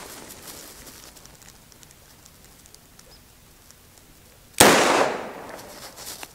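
A single loud, sharp shot from a Smith & Wesson 325 Thunder Ranch .45 ACP revolver fired double action, bursting out after a quiet stretch and ringing briefly before it decays.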